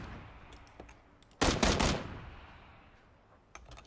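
Gunfire erupts in PUBG: a loud, close burst of rapid shots lasting about half a second, with fainter single shots and a lingering echo before and after.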